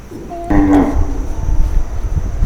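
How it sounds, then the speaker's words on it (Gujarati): A single short, low moo from a nearby Gir cow at a cattle shelter, heard over a quiet outdoor background. "જો આ ગાય"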